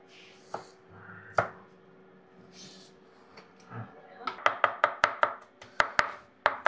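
A knife chops garlic finely on a board, a quick run of sharp rhythmic taps in the second half after a few scattered knocks, with people talking.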